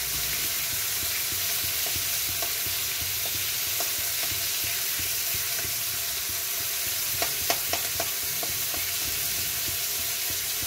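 Chopped garlic sizzles and fries in hot oil in a pan for a Bengali prawn and taro-stem dish, a steady bright hiss broken by a few quick scraping stirs toward the end.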